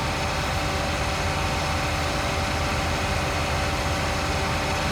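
Tractor engine idling in a Farming Simulator game, a steady low rumble with constant vibration running unbroken throughout at a moderate level.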